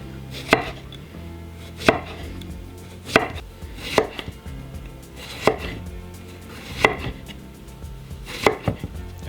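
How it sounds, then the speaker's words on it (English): A knife slices a cucumber on a cutting board for a radish-cucumber salad, with about seven crisp, evenly spaced chops striking the board at a slow, steady pace, close and clear with no talk. "The cucumber, I'm going to go ahead and cut that into slices."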